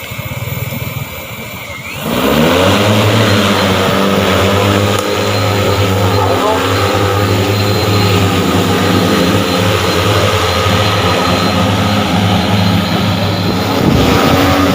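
An agricultural spraying drone flying over a rice field targeting planthoppers gives a loud, steady propeller buzz that starts abruptly after a brief quieter moment and holds close and constant to the end.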